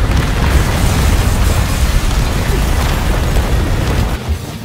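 A loud, sustained explosive blast from an arm detonating in the action video game Devil May Cry 5, a dense rumbling boom filling nearly five seconds before dropping off at the end.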